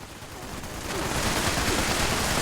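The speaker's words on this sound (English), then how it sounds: "Gatling laser" Sustained rapid automatic energy-weapon fire from a Gatling laser in the video game Fallout 76, a dense continuous stream of shots growing slightly louder and holding steady throughout, with no talk.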